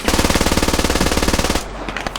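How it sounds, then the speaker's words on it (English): Rapid automatic gunfire in a video game shootout, a loud, steady burst of evenly spaced shots for about one and a half seconds that then cuts off, followed by fainter scattered shots. "Alright, we're shooting. Shooting at us."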